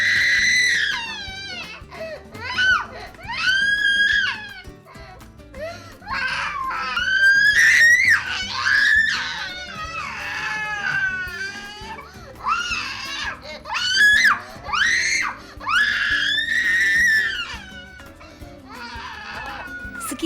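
A young girl screams and sobs during a finger-pinching and finger-pricking treatment, with loud, piercing cries in repeated bursts broken by brief gasping pauses and whimpers, going on for a long stretch.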